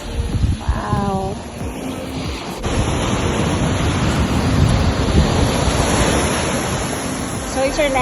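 Ocean surf rolling onto the beach at Destin, a continuous broad roaring wash with swelling surges, loud and close, with a brief voice and some whistling near the start.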